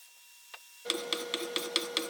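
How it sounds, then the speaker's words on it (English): A reclaimed-wood art piece is sanded by hand with a soft foam sanding pad, six or seven evenly spaced rasping strokes close up after a brief tap and a moment of quiet. "I used a soft foam sanding pad to get into all the nooks and crannies."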